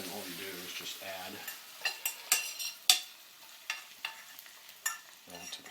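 Onions sizzle in a frying pan while a utensil scrapes and stirs, sharp clinks and scrapes standing out against a soft, steady crackle, close and moderately loud.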